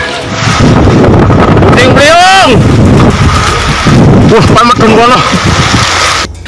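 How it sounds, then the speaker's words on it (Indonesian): A tornado with heavy rain and strong wind in Wai district, East Lampung, roars loudly and without letup, buffeting the microphone, while people's voices cry out and call through the din. "Warga merekam saat hujan turun disertai angin kencang"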